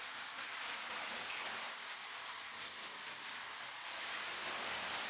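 A waterfall inside an enclosed ring of cliffs gives a constant, even rush of broad hissing water noise, steady throughout with no other sounds standing out.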